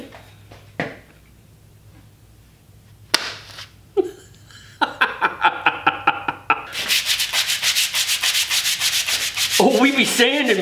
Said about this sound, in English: It's a sanding glove.